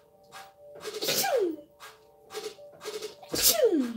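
Two sharp human sneezes, one around a second in and another near the end, each a quick intake followed by a loud burst, with quieter breathy sounds between them during an indoor painting session.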